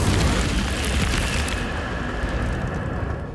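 An Incendio fire spell goes off in Hogwarts Legacy, a loud whooshing burst of flame that roars and then fades out over a few seconds.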